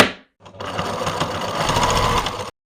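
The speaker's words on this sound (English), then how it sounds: "I'm going to stitch the two collar pieces right sides together, stitching this edge 1 centimeter away from the edge" A sewing machine stitches two shirt collar pieces right sides together along the edge, a steady, close mechanical whirring and rapid needle chatter that starts after a brief pause and runs continuously before stopping abruptly.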